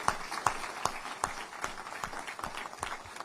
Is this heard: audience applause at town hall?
yes